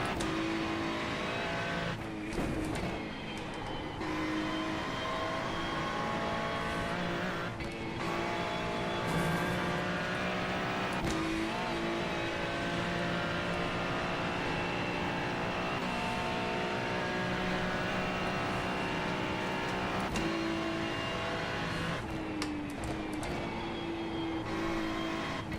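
Race cars at the 24 Hours of Nurburgring at night, with engines droning steadily and rising and falling as cars rev and pass, one continuous loud mechanical roar.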